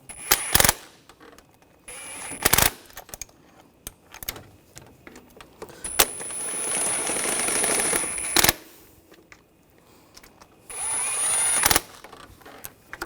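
Power-tool bursts tighten intake runner bolts on a 2002-2006 Honda CR-V 2.4L four-cylinder engine: several short whirring runs, one longer sustained spin, with metallic clinks and quiet handling noises between.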